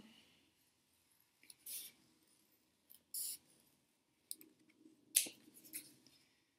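Scissors snip through paper while cutting out a moon or banana shape for a 3D ornament, with several short, quiet cuts spaced apart and soft rustling between them.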